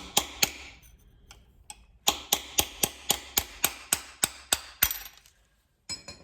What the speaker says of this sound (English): I'm just gonna grab my hammer again and just pop this freeze plug right out.